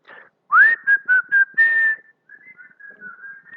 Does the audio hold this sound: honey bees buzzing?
no